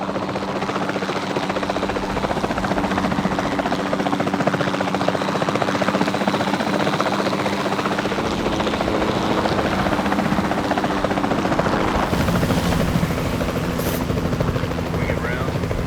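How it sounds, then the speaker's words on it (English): A capture team helicopter in Jurassic World Evolution 2 flies with a steady, loud rotor drone and engine whine that continues throughout, while voices come and go over it. "Then the sensible thing is to take a capture team helicopter"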